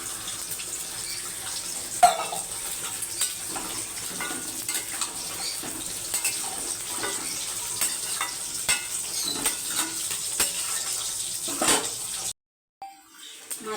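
Potatoes and a fish head frying in a pan for a Bengali curry, with water poured in and stirred, giving a continuous watery sizzle and scattered utensil knocks before it cuts off near the end.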